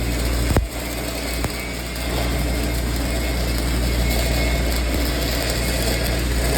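An arc welding 6G pipe gives a steady, crackling hiss over a low electrical hum, heard up close and uninterrupted, with a couple of brief sharp ticks near the start.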